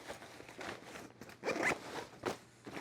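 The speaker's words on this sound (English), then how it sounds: "you can either release that all the way really easily to undo this U-shaped zipper" A U-shaped zipper on a fabric duffle bag liner is pulled open in a few quick, close-up rasping bursts, fairly quiet and with no one talking.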